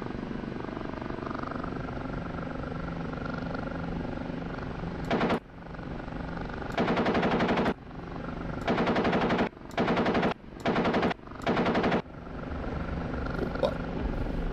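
Nose-mounted machine gun on an OH-58D Kiowa helicopter in the DCS flight simulator fires several short, loud bursts of rapid rattling over the constant drone of the rotor and turbine, without talk.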